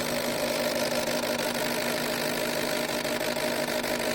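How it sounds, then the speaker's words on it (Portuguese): A Ford Fusion with a misfire and flashing injection light settles into idle, a steady mid-pitched engine drone with a faint hum and slight vibration, constant and close with no voices. "Então quando o motor volta para sua fase marcha lenta"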